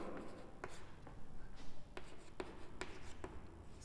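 Chalk or pen scratching and tapping on a board during an ecosystem class: soft strokes and a series of light taps, close but quiet, with no talking.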